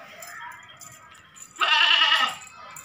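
A breeder-quality goat gives a single loud, strained bleat lasting under a second, close by and alone after a quieter stretch of background sound.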